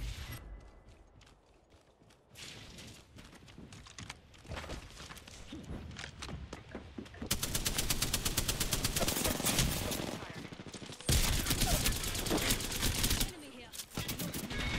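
Gunfire from an Apex Legends match, sharp shots clustering into rapid bursts through the second half, with intermittent footsteps and game noise underneath and voices speaking at times.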